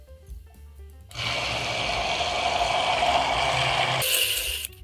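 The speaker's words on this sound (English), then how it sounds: "Then all we gotta do is run our immersion blender." An immersion blender whirs as it emulsifies homemade mayonnaise, starting abruptly after a second of quiet, running loud and steady, then rising to a harsher pitch near the end before cutting off.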